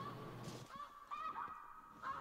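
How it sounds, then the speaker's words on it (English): Geese honking in theHunter Classic hunting game, a repeated nasal honk call sounding a few times at moderate distance over a steady background hiss. "See some geese coming."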